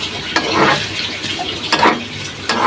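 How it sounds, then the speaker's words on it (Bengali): Washed country chicken meat is stirred in a pan for a home-style chicken jhol, with a few wet scraping and sloshing strokes and a soft sizzle, close and fairly loud. "এখন আমি মাংসটা ভালো করে নেড়ে চেড়ে মাংসটা ঢেকে দিয়ে কিছুক্ষণ কষাবো।"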